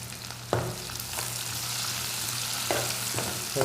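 Garlic, onion and green chilies fry in a pan with a steady, close sizzle, broken by a few sharp stirring scrapes.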